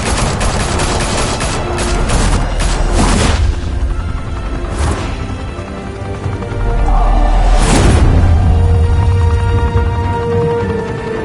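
Gunfire erupts in a Batman Realm of Shadows shootout: dense automatic bursts with sharp cracks and heavy booms, loud and close, building into bigger blasts around the middle and end.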